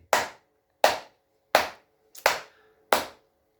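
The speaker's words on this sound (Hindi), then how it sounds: "ये हाथ में जैसे आप ताली बजा सकते हैं" Five sharp, loud hand claps at a steady, slightly uneven pace, each isolated with silence between, done as a yoga acupressure exercise.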